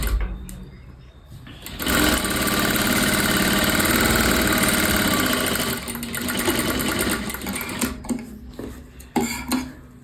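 Electric sewing machine running steadily while stitching a Katori blouse, a dense mechanical whir that starts after a quiet moment and holds for several seconds before slowing and stopping in short bursts; low voice faintly underneath.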